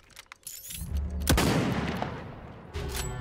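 Gunfire in the video game Realm Royale, with a few quick shots followed by a loud booming burst that trails off, then another shot near the end.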